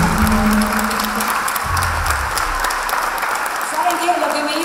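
An audience at a live show for a singer breaks into loud, continuous applause, with voices and some amplified sound audible underneath.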